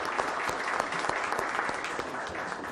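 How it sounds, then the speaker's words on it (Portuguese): Applause in a Senate hearing room for a senator, steady crisp clapping from a modest group, moderately distant and continuous for the whole stretch, with no talking over it. "quero dar uma salva de palmas ao senador"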